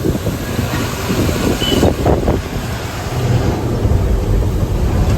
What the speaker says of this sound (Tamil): மழை விட்டு வெளுத்து கட்டியிருக்கு மழை வந்துட்டுருக்குங்க